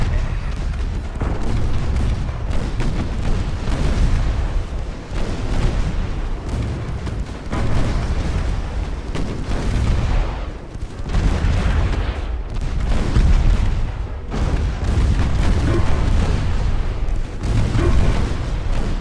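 Heavy naval gunfire from 1890s-era warships in Ultimate Admiral: Dreadnoughts, a dense run of booming cannon shots and rumbling blasts rolling almost continuously, loud and close with no talk over it.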